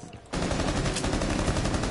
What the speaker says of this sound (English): it shoots like a freaking cannon